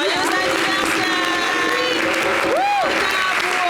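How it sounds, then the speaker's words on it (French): Audience applauding a child named Arsène on a French local holiday TV show, dense steady clapping with a voice rising briefly over it. "pour lui, on applaudit"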